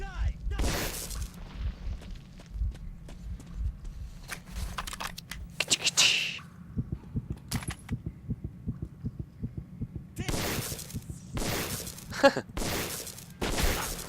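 Gunfire in the video game Metro 2033: sharp bursts come in irregular clusters over low rhythmic thumping and a hum, with some loud close shots and quieter gaps between.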